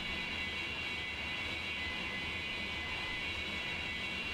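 Steady, continuous engine drone of a plane in a flight video game, a broad even roar with a bright whine on top, holding constant after a short landing with no talk over it.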